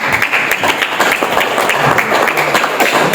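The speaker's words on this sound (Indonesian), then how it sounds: "Berikan tepuk tangan dulu." An audience at a church organization's conference in Indonesia breaks into dense, steady applause, many hands clapping continuously and fairly close.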